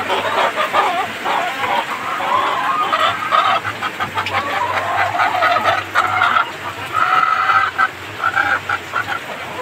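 A flock of hens and chickens clucks and squawks loudly and continuously at close range, their calls overlapping throughout.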